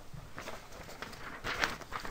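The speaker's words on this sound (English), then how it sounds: "Sorry, turning page." Paper page being turned by hand, a soft rustling swish with brief crinkles, faint and close, alone without talk.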